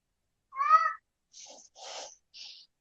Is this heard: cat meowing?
yes